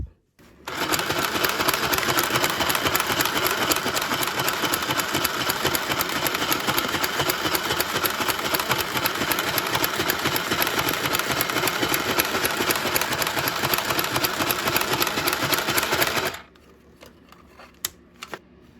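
A Singer sewing machine stitching through regular copy paper runs with a loud, fast, steady mechanical whir for about fifteen seconds, then stops abruptly, leaving faint clicks.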